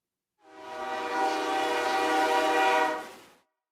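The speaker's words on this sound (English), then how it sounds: "I'm trying to see that train." A train sounds a long, steady horn blast as it passes, swelling in and fading out over a few seconds, loud and alone.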